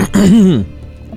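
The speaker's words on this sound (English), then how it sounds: "I clear my throat." A single close, loud throat clearing with a voiced rasp, then quiet.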